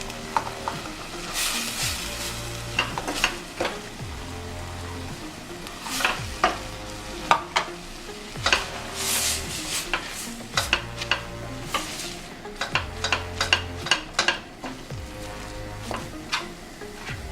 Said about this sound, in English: So now I'll add my egusi.